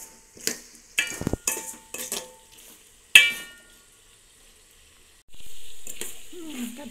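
A spoon clatters and scrapes against a pan while brinjal curry with turmeric is stirred, in short separate bursts, followed by a soft sizzle.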